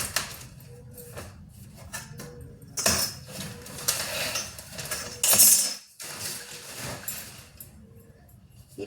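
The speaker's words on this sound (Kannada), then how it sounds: "ನಾ ಈಗ ಟೇಬಲ್ ಮೇಲೆ ಇಟ್ಟು ಕಟ್ ಮಾಡ್ತಾ ಇದ್ದೀನಿ" Scissors cut blouse fabric laid on a table, giving intermittent metallic clicks, snips and soft scraping, close and moderately loud, with brief pauses between cuts.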